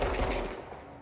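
Gunfire in the video game Control: a short, dense, loud burst of rapid shots right at the start, fading into a rumbling decay.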